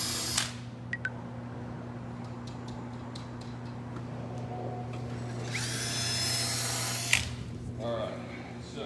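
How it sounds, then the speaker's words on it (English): A power drill bores into wood and epoxy at a table build, a steady whine rising then cutting off, with short clicks and handling noises around it. "Wood, epoxy, whatever you're drilling into."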